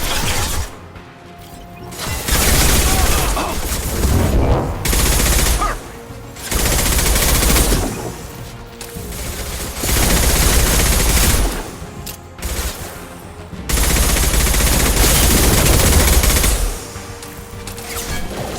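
Machine gun fire rattles through a battle in Mass Effect 2, loud sustained bursts that stop and start with short gaps between them, alongside mechanical clatter and almost no talk.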